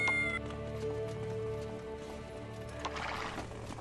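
A horse whinnies with a high, wavering call amid game-like sounds and a low hum, followed by a few scattered hoof clops, fairly quiet, in the video game Die Gilde 3.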